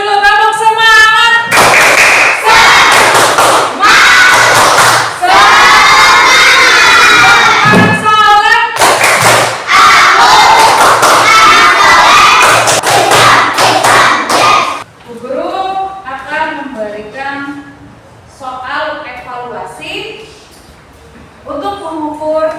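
Schoolchildren in a classroom perform a rhythmic spirit clap chant, sharp bursts of group clapping alternating with shouted chanting, loud and close, followed by a teacher speaking.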